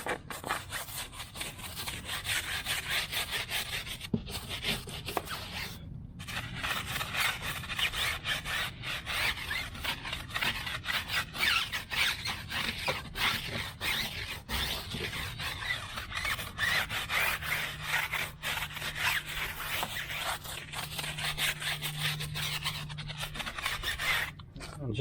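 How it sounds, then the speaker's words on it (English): A tire is scrubbed with a stiff bristle brush while wheel cleaner is applied, giving a continuous close, raspy back-and-forth scrubbing with brief breaks. A voice speaks quietly underneath at times. "I'm using a stiff bristle brush. It's a little more aggressive than those other pads"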